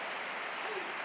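Spectators at a Premier Padel tournament in Sevilla applaud a shot, a brief steady wash of clapping with no voices standing out.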